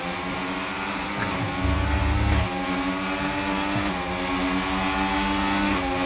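Steady engine drone from the F1 25 racing game, a continuous droning tone with shifting pitch as the car holds speed, briefly thickening with a low rumble partway through, loud and unbroken.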